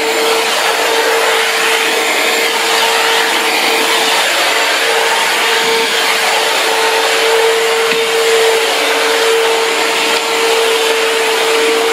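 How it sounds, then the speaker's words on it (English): A Shark vac mop vacuum cleaner runs close by with a steady, even whirring drone that holds at the same level for the whole stretch, with no talking. "it's not as loud as a regular vacuum cleaner"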